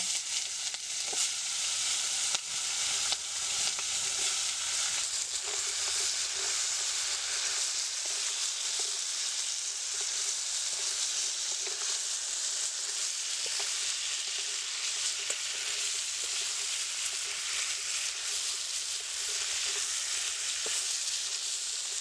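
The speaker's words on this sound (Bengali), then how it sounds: "এবার লবণ হলুদ মাখা কাঁকড়াগুলো দিয়ে দেবো এক এক করে" Salt-and-turmeric-coated sea crabs sizzle steadily in hot mustard oil in a pan, a continuous close crackle of frying with faint scraping and stirring mixed in, with no talking.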